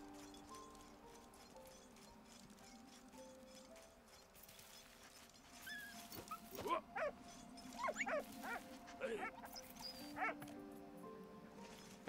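A puppy in Valiant Hearts video game gives a string of short, yipping barks and whimpers midway, fairly faint over a quiet game backdrop.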